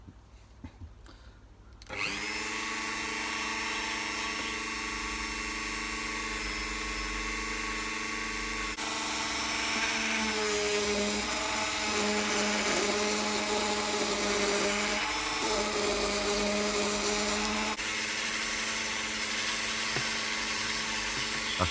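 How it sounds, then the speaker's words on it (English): A silver buckle ring is buffed with a wax compound on a powered buffing wheel, giving a steady loud whine with a shift in pitch partway through as the piece is pressed to the wheel, starting up after a brief quiet moment. "I'm going to buff it up now"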